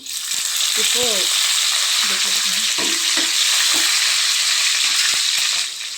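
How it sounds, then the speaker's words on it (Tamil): Fenugreek seeds frying and spluttering in oil, a loud, steady sizzle with scattered crackles and stirring clicks, and a brief voice or squeak in the background early on. "வெந்தயம் கொஞ்சம் பொரிஞ்சிருச்சு."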